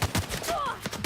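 Gunfire in the video game The Outer Worlds: a quick run of sharp, fairly quiet shots in an uneven rhythm, with a faint tonal whine in the middle.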